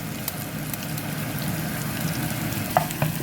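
Mustard seeds, fennel seeds and onion frying in hot oil for a leek, bean and carrot sundal, giving a steady close crackling sizzle with a couple of sharp pops near the end, no talk.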